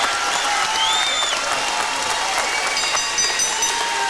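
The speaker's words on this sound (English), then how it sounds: "let's have a nice round of applause for these 2 young men" Boxing fans in an arena applaud the two fighters, a continuous loud crowd roar of clapping with faint whistles and cheers rising over it.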